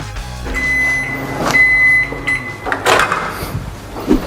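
A microwave oven hums steadily with a high electrical whine while heating food for about 30 seconds, followed by clunks and a door opening.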